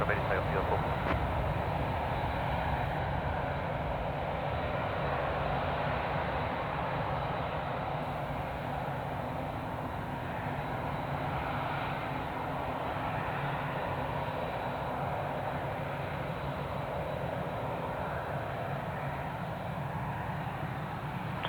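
An airliner taking off from runway 03 at Perth Airport, a steady broad engine roar that holds for the whole stretch at moderate distance, with no talking.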